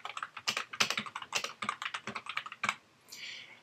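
Fingers type quickly on a computer keyboard, producing a dense run of sharp, close key clicks in an irregular rhythm that end with a brief softer rustle, and no voices are heard.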